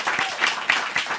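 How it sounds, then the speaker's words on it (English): A studio audience applauds briefly, a short, close burst of clapping that pulses in quick, uneven surges. "But please give them a round of applause."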